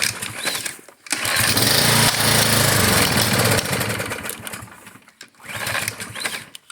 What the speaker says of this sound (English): Let's see how many of our small engines will start today.